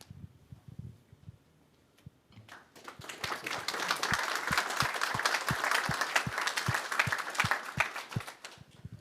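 Audience applause after a presentation, quiet murmuring at first, then clapping swells after about two seconds into a sustained, moderately loud patter, with a steady rhythmic tapping beat running underneath.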